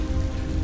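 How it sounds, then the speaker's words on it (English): Rain falls in a constant deluge from leaden black clouds over a river boat in an audio drama, a dense, steady hiss of drops with no voices. "Leaden black clouds rolled overhead, rain falling in a constant deluge."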